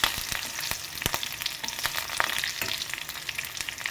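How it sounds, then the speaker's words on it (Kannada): Garlic and asafoetida fry in hot oil for a black pepper rasam, giving a steady close crackling sizzle broken by sharp pops and scrapes of stirring. "ಚೆನ್ನಾಗಿ ಸ್ವಲ್ಪ ಆಯಿಲಲ್ಲೇ ಫ್ರೈ ಮಾಡ್ಕೊಳ್ಳಿ"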